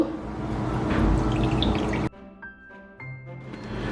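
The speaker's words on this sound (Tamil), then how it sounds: "இந்த தண்ணி இதில் விடுங்க." About a tablespoon of water poured into a small dish while preparing prawn dum biryani: a splashy, continuous pour for roughly two seconds that stops abruptly, leaving quiet kitchen sounds and faint clinks.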